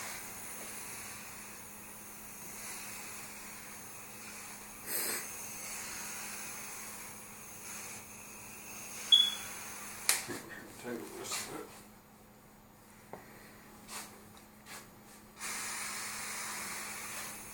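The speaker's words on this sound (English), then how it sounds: "Now if you steam your mattress, your pillows, you can even steam your pillowcases" A Dupray Neat steam cleaner steaming a mattress, soft hissing spray bursts that come and go in short uneven puffs over a faint steady hum, with someone talking in between.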